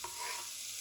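Onions frying in butter in a cooking pot give off a short, steady sizzling hiss with a faint stir at the start, heard on its own for under a second.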